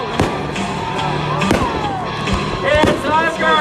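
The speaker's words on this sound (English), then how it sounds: "Big fireworks launching out!" Fireworks launch at a nighttime monster truck show during a gender reveal. Several sharp, loud bangs and thumps burst out over a crowd, with a voice talking alongside.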